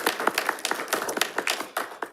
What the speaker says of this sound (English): So can I get a little round of applause?